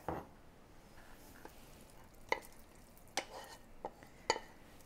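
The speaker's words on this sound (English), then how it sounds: "Now we're going to go ahead and add our shrimp." Shrimp added to mirliton stuffing in a pan and stirred, giving faint soft scraping and a few light clinks of a spoon against the pan over a quiet sizzle.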